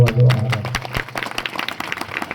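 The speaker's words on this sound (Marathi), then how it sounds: "एकदा आमच्या महाराजांसाठी जोरदार टाळ्या वाजवा" Audience applause, a brief shout or tone at the start giving way to a quick, irregular burst of clapping from a crowd.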